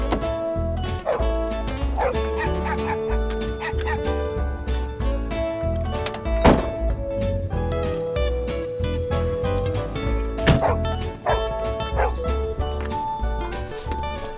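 Dogs barking in a film scene, repeated yips and bow-wow barks scattered over a steady bed of music, fairly loud and recurring throughout.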